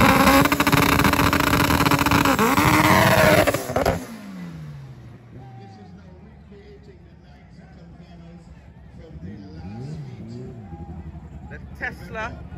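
A Tesla drag races the fastest B-series car in the Caribbean at Vernam Field, Jamaica, opening with a loud, dense roar of engine and crowd that cuts off sharply, then fading into distant engine noise and faint babble.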